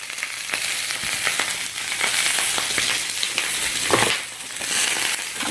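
Sausages and peppers sizzling in a hot pan, a steady loud crackling hiss with scattered pops and occasional stirring scrapes, close and continuous.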